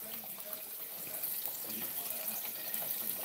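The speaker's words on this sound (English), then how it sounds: "Y'all see it bubbling?" Hot oil bubbling in a pan while parrot fish fries at a soul food Sunday fish fry, a continuous bright crackling sizzle close by, with the hiss holding steady throughout.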